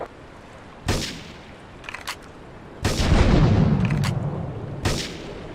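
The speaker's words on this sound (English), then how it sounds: "Investigate reports of gunfire and explosions" Several heavy gunshots and booming blasts in GTA 3 Remastered ring out at intervals, with a longer rumbling explosion in the middle and distant crackling shots between.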